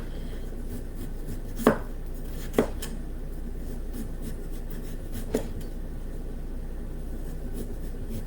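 A knife slices the peel and waxy coating from a round vegetable on a cutting board, giving three or four sharp, separate cuts against a quiet steady background without speech.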